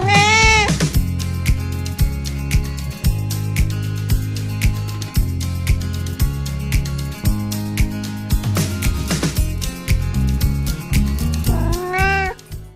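Several cats meow repeatedly at a cat rescue shelter in Liverpool, their calls rising near and loud over a steady background of rhythmic music.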